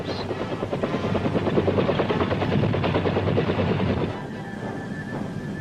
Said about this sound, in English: In case of need, choppers bring in supplies directly to the decks of ships.